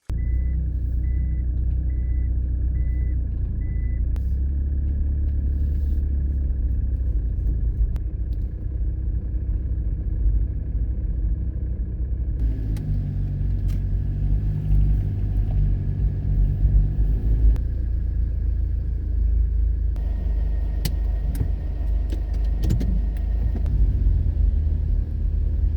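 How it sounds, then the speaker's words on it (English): Cabin rumble inside a lifted Delica van driving on a country road, a steady low engine and road drone throughout, with an intermittent high beeping tone early on and a few clicks and rattles later. "So this is what it's like to drive on a country road."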